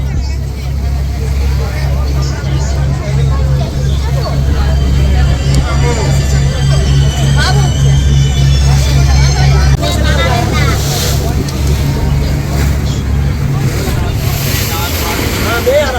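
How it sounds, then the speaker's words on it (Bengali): A passenger launch boat pulls away toward Vivekananda Rock off Kanyakumari, its steady low engine drone running continuously and close, with crowd chatter and voices over the top until the drone fades near the end. "এই যে আমাদের লঞ্চ কিন্তু ছাড়লো গন্তব্য হচ্ছে ওই যে বিবেকানন্দ রক"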